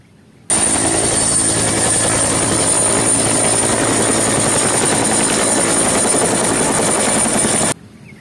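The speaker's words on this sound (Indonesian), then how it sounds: "ada helikopter." A helicopter's thudding rotor and engine whine fill the air loudly and continuously for several seconds, then cut off abruptly.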